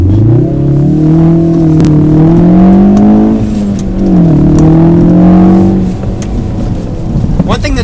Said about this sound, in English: Just take a listen to this engine note.